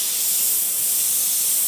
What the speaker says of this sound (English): I got a pretty good mastery of the airbrush, and I can really get in there and sculpt out those muscles